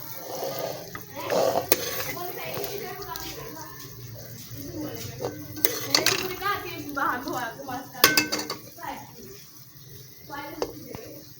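Kachnar qeema is served from a pot into a dish with repeated clinks and scrapes of a metal spoon against cookware, mixed with someone talking and a voice nearby.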